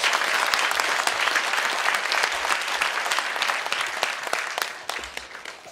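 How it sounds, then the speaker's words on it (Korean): Audience applause at a Buddhist temple book concert after a free performance; steady, dense clapping from a crowd, loud and continuous throughout with only slight thinning near the end. "다시 박수 한번 보내주시죠"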